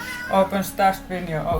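A pet cat meows intermittently in the background of a home room while a person talks over it, its cries partly blending with the speech.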